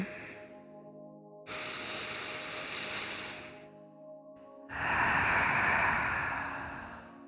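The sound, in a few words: breathing during a relaxation exercise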